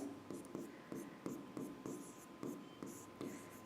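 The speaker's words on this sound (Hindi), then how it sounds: "मैं लिख देती हूं" Pen or marker writing by hand on a board or paper while a larva name is noted, giving repeated short scratchy strokes in an uneven rhythm, close and fairly quiet, with no talk over it.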